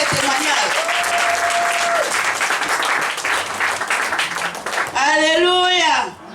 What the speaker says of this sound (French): Acclamez très fort pour le témoignage